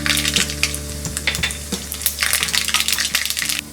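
Half a teaspoon of mustard seeds crackling and sizzling in hot oil for a jeera aloo sabzi, with sharp popping bursts and a clinking spoon over a steady fry, close and fairly loud.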